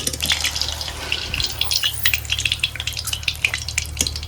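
Green chillies frying in oil for sabudana vada, a close, crackling sizzle with scattered pops and spits over a low steady hum, with no talk.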